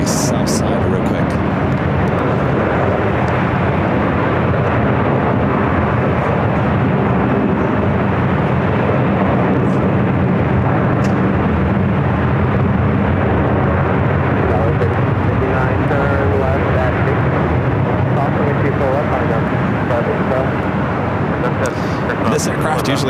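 An aircraft moving on the ground at LAX, its engines a loud, continuous broadband roar and rumble that holds steady throughout, with radio chatter and voices faintly mixed in.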